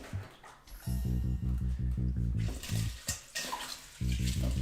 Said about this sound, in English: then we're going to put some water.